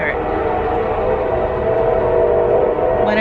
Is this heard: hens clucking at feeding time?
no